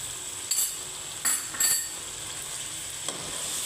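Spices, coriander powder, green chillies and tomatoes frying for aloo gosht, a steady low sizzle broken by a few short stirring scrapes and clinks of a spoon against the pan, close by with no talk.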